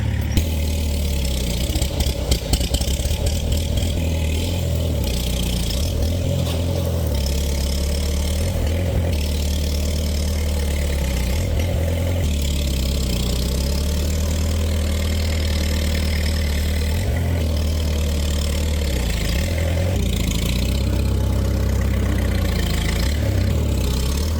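A tractor engine idles steadily with a deep, low rumble, running continuously and close by with no talk over it.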